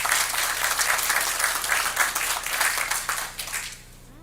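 Audience applause at a town board of commissioners meeting, steady clapping from a room of people lasting about four seconds before tapering off at the end.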